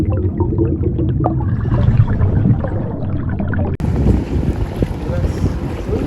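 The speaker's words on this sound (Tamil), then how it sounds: "போட் போயிட்டே இருக்குதான்" Motorboat running out at sea near Pigeon Island off Nilaveli, Trincomalee, its steady engine rumble and hull slap mixed with strong wind buffeting the microphone, loud and continuous throughout with a sudden jump in hiss partway.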